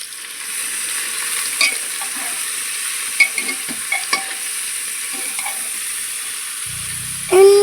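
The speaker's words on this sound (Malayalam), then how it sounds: "എണ്ണ ചൂടാക്കി സബോള, തക്കാളി, പച്ചമുളക് എന്നിവ ഇട്ടിട്ട് നല്ലപോലെ വഴറ്റിയെടുക്കാം" Sliced onion, tomato and green chilli sauté in hot oil for a squid roast, giving a close, steady sizzle. A spatula scrapes and taps several times, and a louder clatter comes at the end.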